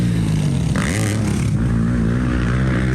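An old KTM 250 GS motorcycle engine runs close and loud, its steady drone swinging briefly up and down in pitch early on before settling into an even running note.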